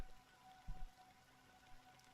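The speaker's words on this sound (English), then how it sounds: "But this rain is relaxing." Steady, soft rainfall in Honkai: Star Rail's Penacony area, a faint even patter with a few slightly louder drops and no talking over it.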